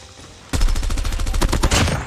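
Sustained full-auto bursts from an M16 rifle in Call of Duty Mobile, loud and rapid, a dense stream of sharp shots starting abruptly and continuing without pause.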